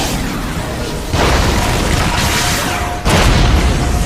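Loud booming blasts burst in at intervals, each a heavy broadband roar that hangs on, with a continuous rumble underneath.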